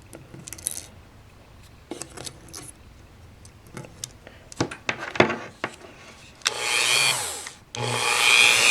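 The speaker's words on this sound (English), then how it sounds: "I'm basically just going to take a Dremel and then shave off the sides" A Dremel rotary tool shaves the sides of a keyboard keycap: scattered close handling clicks and scrapes lead into two sustained, high-pitched grinding bursts near the end.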